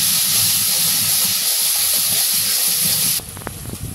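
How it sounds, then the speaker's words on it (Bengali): Ground spices and ginger garlic paste fry in a pan, giving a loud, steady close sizzle and hiss that drops suddenly near the end to quieter crackling, with no talk. "মশলাটা কষতে দিব"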